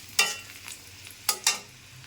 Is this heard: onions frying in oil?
yes